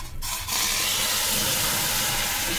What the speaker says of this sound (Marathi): वाफारा निघालेला आहे